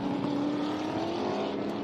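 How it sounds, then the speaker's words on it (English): A Chev race car engine on heavy throttle along the old front straight at the Winton Festival of Speed, a steady loud rising drone held throughout with no pause and no talk. "we could hear the use of the throttle there from Paul Stubber there, coming onto the old front straight there, giving it plenty"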